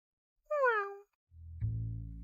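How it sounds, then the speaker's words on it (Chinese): A cat meows once, a clear, close, falling cry, then a low droning tone rises and holds after a short pause. "你这养的野猫"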